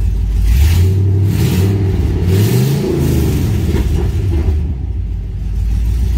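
A car engine fitted with a Holley Sniper EFI throttle body runs at operating temperature with no exhaust system installed, a loud, steady, deep rumble with slight rises and falls in pitch.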